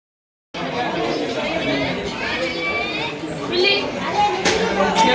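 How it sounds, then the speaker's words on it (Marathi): Crowd of devotees at the Saundatti Yellamma temple at night: a steady, dense murmur of many voices that starts abruptly after a brief silence, close and fairly loud. "गर्दी बघ"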